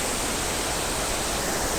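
Weisteid or Thweishabong waterfall in Meghalaya roars as a steady, dense rush of water, loud and unbroken, with no other sounds.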